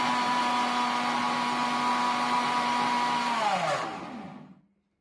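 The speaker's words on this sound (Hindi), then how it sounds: "फिर इसको मिक्सी में आपको 2 मिनट चलाना है।" A mixer grinder blending a watermelon drink whines at a steady, loud, even pitch, then its motor slows and winds down to silence near the end.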